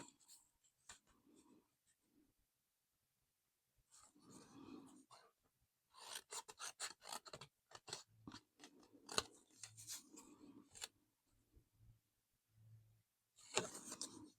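Scissors cutting fabric along a marked line for a tattered cloth doll, a quiet run of short snipping crunches in irregular bursts with soft breathing between, close by and with no talking.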